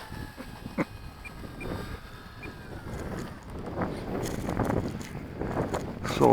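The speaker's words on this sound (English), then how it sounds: "Got a pretty good crosswind going." Crosswind buffets the microphone at an RC airfield, a low, uneven rumble that swells and gusts over several seconds and grows stronger toward the end.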